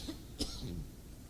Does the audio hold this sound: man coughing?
yes